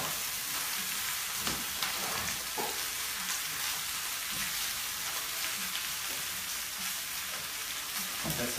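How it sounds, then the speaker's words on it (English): Potatoes frying in a pan make a dense, constant hiss and crackle, close and even throughout, with a few soft knocks from stirring. "Stick the potatoes in there. What we're going to do is just let it all cook around."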